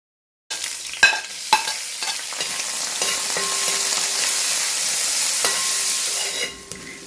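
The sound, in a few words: shallots and ginger frying in a pan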